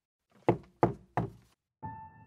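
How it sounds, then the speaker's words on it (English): Three sharp knocks on a door, evenly spaced and close, stand alone as a sound effect in a narrated horror story, followed by a brief low ringing tone. "There were three knocks on the door."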